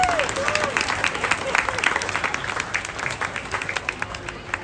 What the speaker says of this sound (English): Let's give Rasti a big round of applause, please.